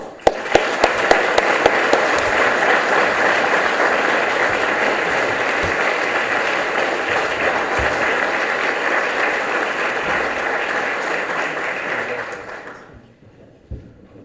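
Sustained audience applause fills a reception hall as an award recipient is welcomed, dense and loud for about twelve seconds before fading out quickly at the end.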